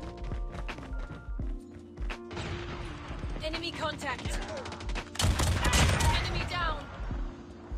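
Kilo Bolt rifle firing rapidly in Call of Duty Mobile, dense rattling bursts of gunfire with other game sounds layered in, loudest toward the end, while a voice talks over it.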